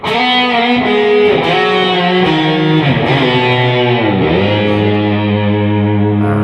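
A heavily distorted electric guitar sustains notes while the pitch bends down and wobbles, dipping and rising from a whammy bar, with no left-hand vibrato.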